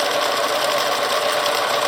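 A sewing machine stitches a fabric seam at a stitch length of 3, running as a steady, close, continuous mechanical whir with no pauses.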